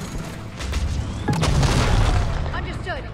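Artillery fire in the Mass Effect 3 video game: a sharp boom about a second in, followed by rumbling impacts and crackle, with a voice speaking over the combat noise.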